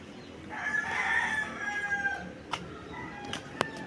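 A rooster crows once in a garden yard, moderately near, the call rising and trailing off over about two seconds, followed by a few faint sharp clicks and ambient rustle.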